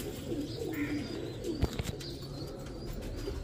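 Kalsera pigeons, a dark-necked breed, cooing softly in low throaty murmurs, with a sharp thud or wing flap midway and faint chirps in the background.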